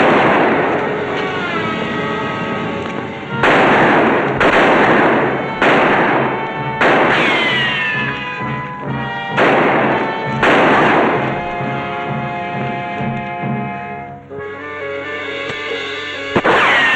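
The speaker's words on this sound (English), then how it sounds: "It's again the law shooting at people that way." Gunshots ring out in a western shootout with lawmen firing at outlaws, loud repeated cracks scattered over a steady bed of dramatic orchestral music, no talking.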